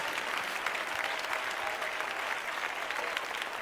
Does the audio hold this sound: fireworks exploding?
no